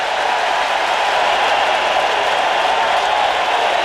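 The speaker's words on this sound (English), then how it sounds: "And again, the big crowd, as one rises to its feet." A big baseball stadium crowd roaring during a 1996 American League Division Series game in Baltimore, a dense, sustained wash of cheering and applause that holds steady and loud throughout.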